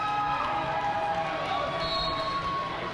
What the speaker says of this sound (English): an equally warm round of applause and a big high five for their opponents